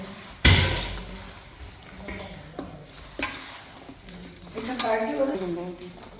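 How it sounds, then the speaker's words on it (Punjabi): Raw mango pickle is stirred with oil in a pot, with a sharp clatter at the start and then a spoon scraping and stirring in bursts, with soft knocks and thumps. "ਹੁਣ ਆਪਾਂ ਪਾਉਣ ਲੱਗੇ ਇਹਦੇ ਵਿੱਚ ਤੇਲ ਥੋੜਾ ਹੀ ਪਾਉਣਾ ਜ਼ਿਆਦਾ ਨਾ ਪਾਇਓ ਤੇ ਇਹਨੂੰ ਸਾਰੇ ਨੂੰ ਮਿਕਸ ਕਰ ਲਾਂਗੇ"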